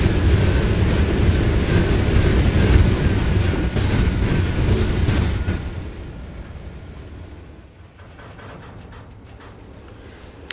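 A train in the Trainz video game rumbles and clatters along the rails, loud at first, then fading to a quieter rolling sound after several seconds.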